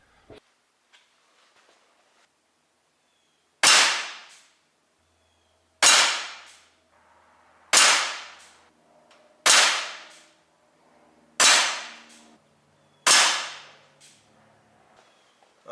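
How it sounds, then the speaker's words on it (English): A Chiappa Rhino 50DS CO2 .177 BB pistol fires six sharp, snappy shots one at a time with gaps of about two seconds, each crack decaying quickly into near silence. "Let's get to shooting."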